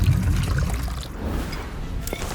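Lingonberry cocktail juice being strained in a bar, a steady pouring, trickling liquid sound, moderately loud and continuous.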